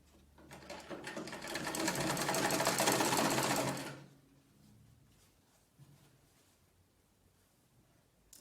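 A sewing machine stitching a Victorian corset runs in one loud, close, continuous burst for about four seconds, then stops, leaving quiet room tone with a couple of faint handling knocks.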